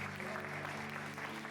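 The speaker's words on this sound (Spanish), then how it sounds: "Un aplauso para Juli, por favor" Short burst of applause from a church congregation thanking a young man named Juli, a steady even clapping at moderate distance with faint voices underneath.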